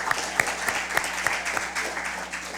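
Audience applause at a junior science quiz, a brief burst of close, steady clapping with a few sharp individual claps standing out.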